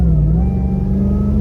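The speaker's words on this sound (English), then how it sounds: "the exhaust on this is pretty understated" Supercharged Hennessey Chrysler 300 SRT8 engine and exhaust rumble loudly as the car accelerates, a deep steady growl with rising pitch, heard from inside.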